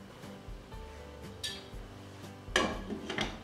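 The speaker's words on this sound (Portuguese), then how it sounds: "vou tampar a panela" A lid goes onto a cooking pot of dried-beef filling for escondidinho de carne seca, making two close metallic clinks, the second louder and ringing briefly, over quiet kitchen background.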